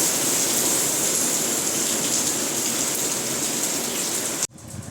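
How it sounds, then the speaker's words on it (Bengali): Heavy rain pours down steadily on the day of the Rath festival, a dense, loud hiss that holds for about four and a half seconds before cutting off abruptly. "ও মাই গড কি বৃষ্টি"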